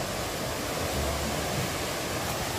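Yongchu Waterfall near Yongchusa temple in Hamyang, South Gyeongnam, roars with a steady, dense broadband wash of falling water at midday in summer, continuous and unbroken with no voices.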